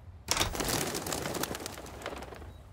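Pigeons coo in a soft, repeated chorus that starts abruptly and continues throughout, fairly close with no speech over it.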